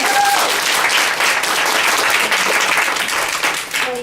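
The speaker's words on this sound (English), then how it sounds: "Usually my messages don't draw much applause," Audience applause fills a hall at a dementia care panel talk, dense steady clapping throughout that starts to thin near the end.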